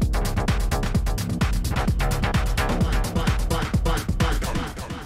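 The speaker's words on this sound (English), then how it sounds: "On the 1/3 beat echo, sounds like this." Fast DJ scratch fader cuts with a one-third-beat echo layered over a driving beat, producing a dense, busy stream of repeating scratch sweeps that stays loud and close throughout.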